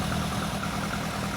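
A Lotus Elan Sprint big-valve twin-cam engine, dusty from long storage, idles steadily with an even low rumble and loud, continuous pulsing.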